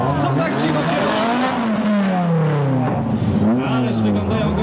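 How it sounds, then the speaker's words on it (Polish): Motorcycle and car engines of an auto club roar loudly and continuously during a flower, fruit and vegetable festival parade, with rising and falling revs from several vehicles close by; a voice speaks over the din. "Słyszą Państwo ten ryk motorów i silników?"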